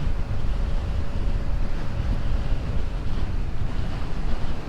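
Strong wind buffets the microphone in a constant loud roar on a Yamaha NMAX V2 motorcycle ride, mixed with the wash of surf or boat noise throughout.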